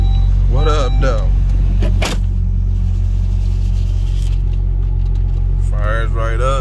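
A dirty turbo car engine idles with a heavy, constant low rumble just after starting, loud and close throughout while people talk over it.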